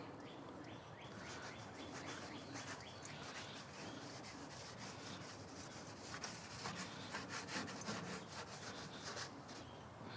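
Oil dabbed and rubbed across the grate of a Big Green Egg style grill for pork loin, heard as a steady, soft scraping and rubbing texture, close and fairly quiet, with faint outdoor bird chirps behind.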